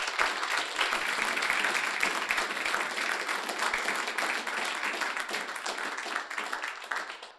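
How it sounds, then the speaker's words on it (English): An audience claps for a discussion panel at a public event on the environment, with dense, sustained applause from a room of people that gradually tapers off toward the end. "with just a little round of applause for the panel"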